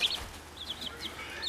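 Chickens being handled in a tote cluck and squawk in short repeated calls, fairly close but soft, over a low background hum.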